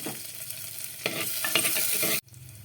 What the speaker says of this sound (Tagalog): Ayan, naglagay na po tayo ng bawang.